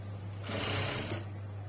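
A sewing machine runs briefly while stitching blouse fabric, a short burst of fast, whirring stitching that rises over a low steady hum and then drops away, fairly quiet and close.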